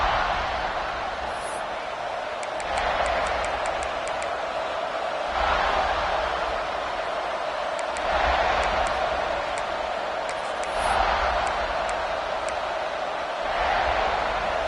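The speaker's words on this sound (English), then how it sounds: "This crowd ready to make its presence known." Stadium crowd at a college football game, a broad roar that swells and fades in repeated waves with whistles and shouts, the noise rising and easing every few seconds.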